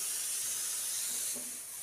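Steady hiss of steam escaping from a pressure cooker holding chickpea-flour dough for puran poli, broad and continuous at moderate level for a couple of seconds, with no talking.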